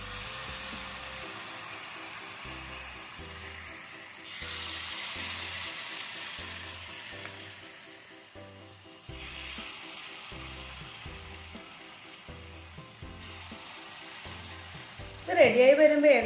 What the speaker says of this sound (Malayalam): എണ്ണ ചൂടായിട്ടുണ്ട്. അപ്പം അതിലേക്ക് നമ്മൾ നേരത്തെ മിക്സ് ചെയ്ത ഓരോ ചെറിയ ചെറിയ സ്പൂണായിട്ട് ഇട്ട് കൊടുക്കാം